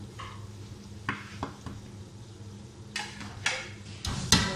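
A spoon stirs spices, salt and chilli powder into korma in a pot, giving soft scraping and a faint sizzle with several sharp metallic clinks of utensil against pot, growing louder toward the end.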